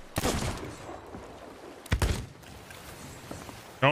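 Three separate sharp gunshots ring out in a Sea of Thieves ship battle, spaced roughly two seconds apart, each loud and abrupt with quieter rumbling and clatter in between.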